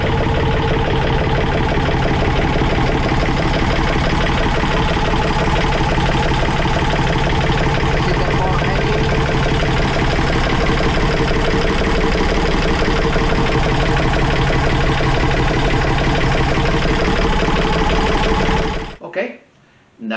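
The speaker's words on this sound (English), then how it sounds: "now we are going to check the engines running." A Yanmar 3JH5EC marine diesel engine runs at a steady idle, loud and close with an even rapid knocking rhythm throughout, then cuts off abruptly near the end.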